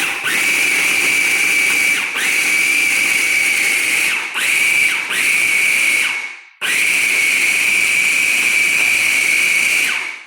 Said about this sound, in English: each of these cubes is going to be thrown into the food processor. You're going to turn it on because you want to get it minced